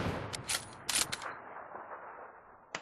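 Bursts of gunfire from the battle royale video game PUBG Lite, several sharp shots clustered in the first second, then a quieter tail and one more loud shot near the end, with no talking.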